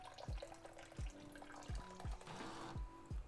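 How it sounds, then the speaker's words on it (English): Running water rinses fresh clams in a kitchen to wash out sand, a faint trickle and splash with soft repeated knocks of shells shifting. "We're just putting some water over the clams to rinse out any sand that could be stuck in the shell still."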